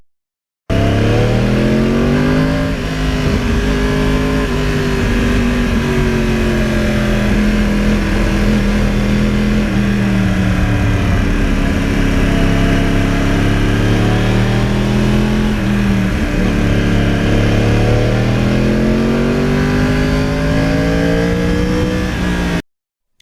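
Yamaha R1 crossplane sportbike engine revving loud and close, its pitch climbing and dropping in sweeping waves as the throttle is worked, with a continuous roar and no talking throughout.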